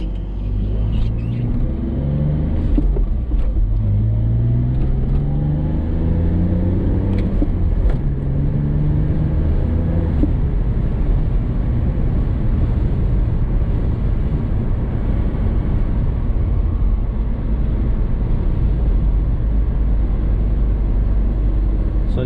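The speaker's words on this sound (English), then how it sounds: "it is a really good sounding engine" A BMW Z4 2.5i E85 with the M54 engine and five-speed manual drives with a loud, continuous engine drone and low rumble heard from inside the cabin, rising in pitch through the gears then holding steady.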